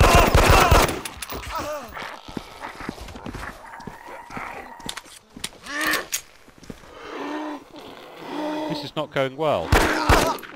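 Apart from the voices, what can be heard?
45 pistol gunfire in the video game DayZ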